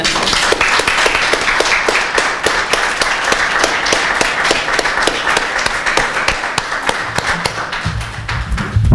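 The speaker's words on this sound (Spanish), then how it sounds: "Otra ronda de aplauso para Lorena Arbalejo y Mario Luna" A seated audience at a talk on Yaqui Indigenous community struggle claps continuously, a dense, loud round of applause from a room full of people that holds steady for several seconds, with no voices over it.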